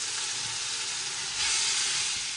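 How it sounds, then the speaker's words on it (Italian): Wine poured over browned meat in a pan for a classic Bolognese ragù, a steady loud sizzle and hiss of steam that swells midway, with no talking. "Abbiamo rosolato, gli mettiamo il vino. Facciamo sfumare."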